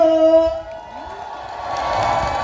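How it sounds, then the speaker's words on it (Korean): A concert crowd cheers and shouts as a live band's song is about to begin, a sustained tone fading at first before a broad swell of whoops and cheering builds near the end. "박수와 함성 아끼지 마시고요"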